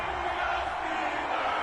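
Stadium crowd cheering in Madden 21 before a Cincinnati Bengals versus Pittsburgh Steelers game, a steady dense roar of many voices holding at a constant loud level with no pauses.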